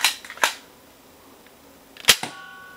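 Nerf Dart Tag StrikeFire blaster firing foam darts near the recorder, a few sharp close pops and clicks, two early and another pair after a pause.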